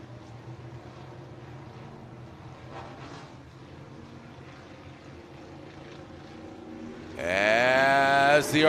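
Stock car engines at Crawford County Speedway rev up for a green-white-checkered restart: a low, distant engine drone for several seconds, then a sudden loud surge of high, rising revs as the field accelerates.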